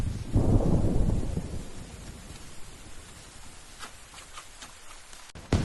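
Rain pours steadily with a loud low thunder rumble at the start that fades into continuous rainfall, a few sharper drips and knocks near the end.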